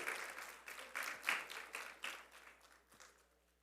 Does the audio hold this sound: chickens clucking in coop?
no